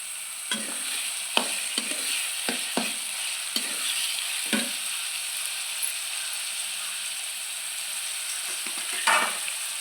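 Chopped onion sautéing in a pan for paneer masala gives a soft, continuous sizzle broken by several sharp clicks and scrapes of a spoon against the pan. It is fairly quiet and close, with no voices.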